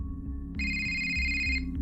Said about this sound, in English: her phone rang, so she smiled and answered it